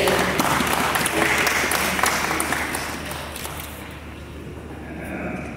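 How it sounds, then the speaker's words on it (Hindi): An audience at a Pakistani ceremony honoring senior journalists for an association's 50th anniversary breaks into full, dense applause that runs loud for about three seconds, then thins and fades over a low steady hum. "तालियों में तो कंजूसी नहीं होनी चाहिए।"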